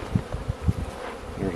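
Bees hum and buzz around a hive frame at close range, short droning pulses rising and fading over a soft background rush.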